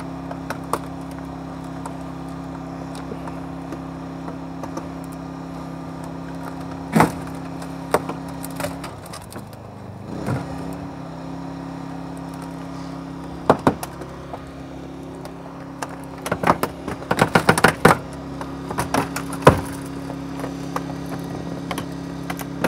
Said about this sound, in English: using the Holmatro telescoping ram, we were able to get this side removal done pretty quick